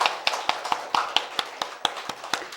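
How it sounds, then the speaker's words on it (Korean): A church congregation claps together in a steady, even rhythm, about four claps per second. The crisp, close claps continue for a couple of seconds with no voices. "박수 한번 칩시다."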